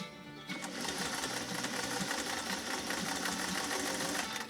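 A Singer 404 sewing machine stitches through two layers of protected full grain leather, giving a steady, close mechanical whir that runs continuously after a brief start.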